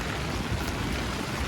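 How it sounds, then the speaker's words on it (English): Heavy rain pours down outdoors at a pow wow, a loud, dense and steady hiss of drops drumming on surfaces and tarps, close and continuous without a break. "Lots and lots of rain."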